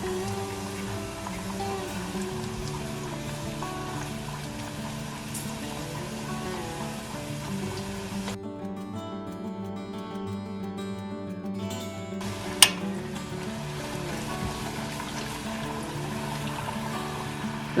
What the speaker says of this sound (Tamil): நாங்கள் நல்ல கோல்டன் ப்ரௌன் ஆகுவதையும் பொரிக்கணும்.